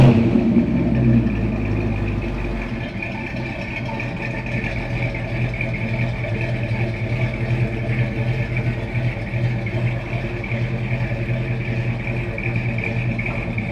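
A 1967 Ford Fairlane engine starts and runs loud and close on a turntable indoors, a deep steady rumble with a throaty idle that swells slightly as it revs.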